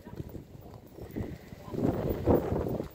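A horse's hooves clip-clop in an uneven rhythm during a riding lesson in an arena, heard at moderate distance with wind rumbling across the microphone.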